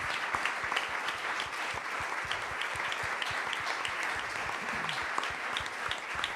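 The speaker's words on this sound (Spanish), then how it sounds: "Fuerte ese aplauso al Señor." A church congregation claps steadily for several seconds, a dense, fairly distant wash of hands with some sharper individual claps standing out. No one speaks.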